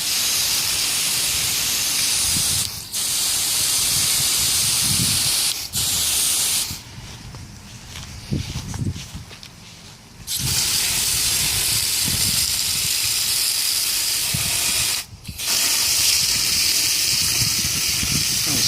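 Loud, steady hiss of a water spray bottle or hose nozzle wetting pumpkin seeds in long continuous bursts, broken by brief pauses and one quieter stretch.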